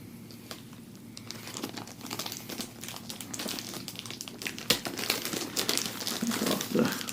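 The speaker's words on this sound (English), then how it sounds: "Take off the wrapping paper." Wrapping paper crinkles and tears off an Amazon Echo Auto box in close, continuous rustling with sharper rips toward the end, no voices.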